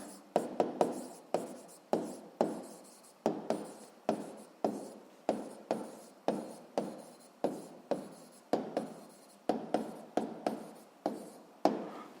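A pen writes on paper close up in a quiet room, a steady run of short scratching strokes in quick rhythmic bursts, with no one speaking.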